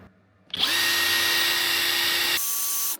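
A SKIL 3285CA cordless impact wrench spins up in breakaway mode, a sudden loud, high motor whine that starts after a quiet moment, holds steady close by, then shifts pitch near the end.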